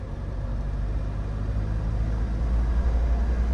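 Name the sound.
car engine sounding strained while shifting manual gears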